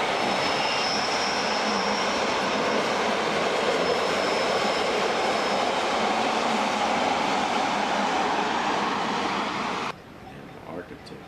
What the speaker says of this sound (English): Listen carefully in the background, you will hear the sound of the train.